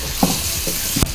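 Lentils toasting in a hot pot with spices for a lentil soup, giving a soft steady sizzle with three short scraping stirs of a spoon, close and moderately loud, no talking.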